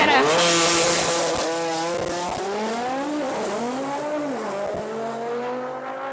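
Drag racing cars launching down the strip at a drag racing event in Odesa, loud engines revving and rising in pitch through the gears, with a brief tyre screech at the start.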